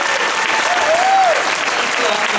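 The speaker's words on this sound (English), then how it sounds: "Please give the warmest round of applause for Tamika Mallory." Sustained applause from a conference audience at a national feminist organization's plenary session, a dense, steady clatter of clapping filling the room throughout, with a brief tonal whistle or voice rising briefly through it.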